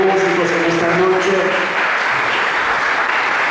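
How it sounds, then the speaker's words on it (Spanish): A church congregation applauds the musicians, a dense, loud burst of clapping that swells at first and then stays steady, with some voices mixed into the crowd. "Así que fuerte ese aplauso, iglesia."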